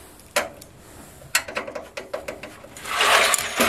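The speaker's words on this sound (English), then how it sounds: "Let's get that last screw installed." A screw is driven into a computer case during a PC build, giving a quick series of sharp ticking clicks close up, followed by a louder rustling burst near the end.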